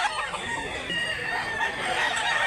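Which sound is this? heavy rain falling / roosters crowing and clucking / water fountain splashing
roosters crowing and clucking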